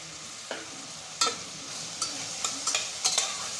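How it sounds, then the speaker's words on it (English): Onion and spice mixture with coriander powder sizzling in a pan for mutton curry, a soft steady fry broken by several sharp clinks and scrapes of a spoon stirring. "Now let the onion and all the mixture cook up."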